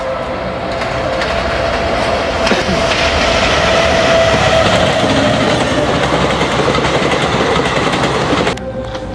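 Indian Railways train passing close on the tracks at night: a loud, sustained roar and rattle of railcars with rhythmic clickety-clack, swelling and holding steady before cutting off abruptly near the end.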